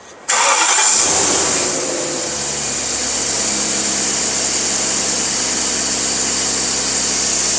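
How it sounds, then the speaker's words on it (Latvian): A car engine cranks and catches, then settles into a steady, loud idle with a constant hum, started to check the air conditioning compressor during an AC repair. No voices are heard. "Šobrīd iedarbināsim automašīnu un skatīsimies, vai kompresors dara to, kas viņam ir jādara."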